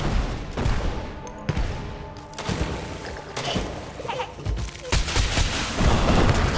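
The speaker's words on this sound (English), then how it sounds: "Let me just throw a couple rockets into the sewer here." Rockets fired into a sewer in the video game Sulfur, several heavy blasts and bursts spaced across the span, loud and close, with rumbling echoes and a faint voice mixed in.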